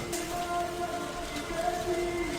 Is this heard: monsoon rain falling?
yes